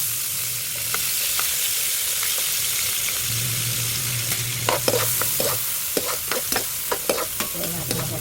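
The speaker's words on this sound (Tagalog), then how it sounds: "Ayan, naluto na ang sibuyas sa mantika." Onions sauté in cooking oil in a pan, a continuous close sizzle with repeated scraping and stirring strokes that grow more frequent in the second half, and no one speaks.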